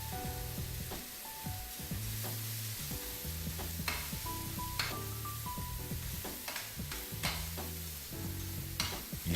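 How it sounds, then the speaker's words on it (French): Crustaceans browning hard in a pot of very hot oil for a shellfish sauce, a steady loud sizzle with scraping stirs and clatters throughout, no voices. "On va les faire fortement rissoler dans un récipient avec de l'huile très très chaude."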